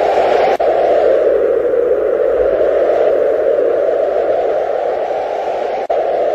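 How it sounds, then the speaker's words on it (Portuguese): Wind blows as a steady, hollow whoosh that holds evenly for several seconds, loud and unbroken apart from two brief dropouts. "Esse é o som do vento."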